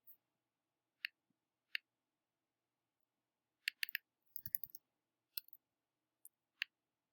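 A few quiet keystrokes on a computer keyboard: sparse, separate clicks with one short rapid cluster in the middle and silence between them.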